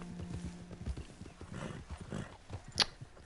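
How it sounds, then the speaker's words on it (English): A horse in the video game Red Dead Redemption 2 snorts and whinnies nearby over a few soft hoof clops, ending in a sharp high neigh. "What are you doing, you silly horse?"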